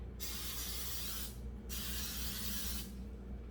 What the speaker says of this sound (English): And we'll spray this side.